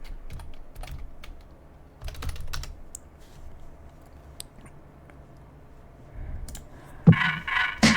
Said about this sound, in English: oh, what am I typing?